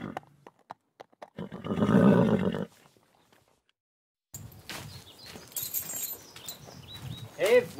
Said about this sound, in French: allez, hop, on descend avec le cheval